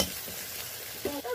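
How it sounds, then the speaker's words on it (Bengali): Potatoes fry in a wok with turmeric and salt, giving a brief, faint sizzle with a light stirring scrape near the end. "কড়াইতে আলুটা দিয়ে দিচ্ছি, হলুদ, দিয়ে দিচ্ছি লবণ, দিয়ে ভেজে নেব"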